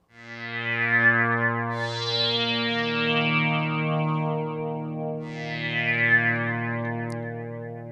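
A sustained Reason Thor synthesizer tone routed through a feedback path between two filters and a shaper, rich and buzzy with sweeping filter swells that rise and fall in two waves, fading in at the start and holding steadily alone.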